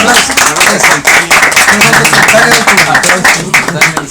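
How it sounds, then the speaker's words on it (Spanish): Lively audience applause with sharp, rapid hand claps from a nearby crowd, loud and sustained for about four seconds, with some voices mixed in. "Un aplauso."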